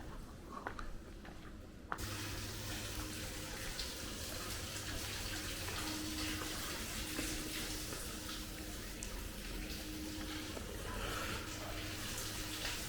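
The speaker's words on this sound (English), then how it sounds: "There seems to be a water channel here." Steady rushing water flows continuously through an underground channel in a rock-cut cave, a broad wash of noise with a faint low hum, fairly close and echoing, with no voices.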